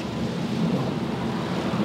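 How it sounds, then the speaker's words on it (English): Rain and traffic on a wet Seattle street make a dense, steady, low rushing wash with a rumbling undertone and no distinct individual sounds or voices. "We got rain, we got traffic."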